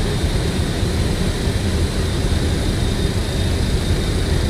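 A steady, loud engine roar and airflow rush of a jet airliner in flight in Microsoft Flight Simulator, constant and unchanging throughout with no talk.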